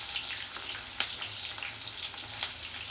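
Bay leaves, cloves and cinnamon frying in hot oil in a pan for chicken fry, a light continuous crackling hiss with a couple of sharp pops, close and moderately loud.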